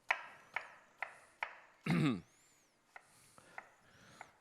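Onions being chopped with a knife on a board, a series of sharp close taps at an uneven pace, plus a brief louder rustle or scrape partway through, with no voices.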